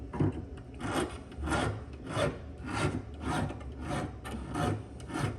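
A rough metal file works over welded copper in a studio, a close, steady rasp of about a dozen even back-and-forth strokes with no talk.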